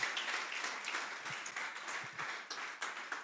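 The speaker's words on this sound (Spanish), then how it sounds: "¿Qué tal si le dan un aplauso al Señor?" A church congregation applauds during a sermon, a steady patter of many hands clapping at moderate volume, with a few sharper individual claps standing out.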